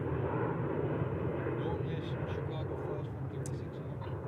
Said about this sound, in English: where this one is taking off, that's the runway that they're going to be taking off on